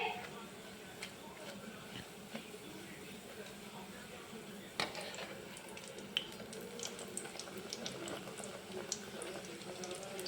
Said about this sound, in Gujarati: તેલ ગરમ આપણું થઈ ગયું છે એટલે આપણે ભટુરું એની અંદર એડ કરી દઈશું